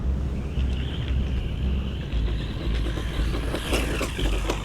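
A UDIRC 1610S RC car runs fast over gravel, its small motor whining in rising and falling bursts over a steady crunching, wind-buffeted roar.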